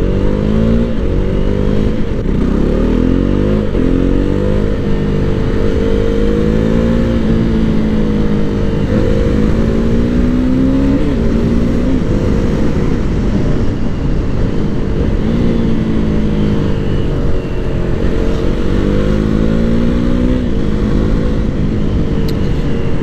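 A KTM Duke 390 motorcycle engine drones loudly and steadily on a test ride, rising and falling in pitch as the throttle opens and eases, near and continuous with wind rush and no talk.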